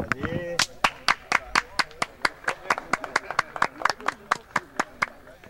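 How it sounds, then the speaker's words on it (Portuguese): Rhythmic clapping of hands in applause for a football player, about twenty sharp claps in a steady beat, close and distinct, with a brief voice at the start. "Olha lá, que imagem. Vamos aplaudir."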